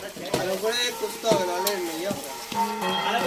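Meat sautéing in a pan with a busy close sizzle and repeated scraping stirs every second or so, steady and fairly loud throughout.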